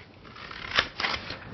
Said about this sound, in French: c'est des ciseaux 3 lames